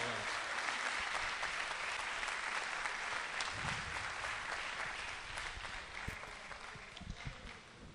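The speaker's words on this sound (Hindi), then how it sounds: "पुरजोर तालियां एक बार।" A sustained wash of audience applause at an Urdu mushaira poetry gathering in Ichalkaranji, dense and steady throughout before gradually thinning toward the end.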